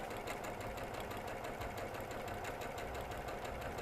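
Janome sewing machine stitching down fabric on a quarter-inch seam, a steady fast mechanical whirr with regular needle ticks, running continuously at close range with no voices.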